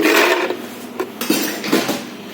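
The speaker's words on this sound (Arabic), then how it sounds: "هنحط في معيار كوبايه تلج كبيره" Ice cubes clatter into a hard blender cup, a loud tumbling pour followed by a few separate knocks and clinks.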